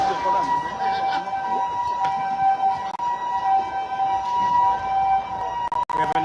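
An ambulance siren wails loud and close during street protests in Nairobi, a sustained steady tone running through the whole stretch over crowd and traffic noise.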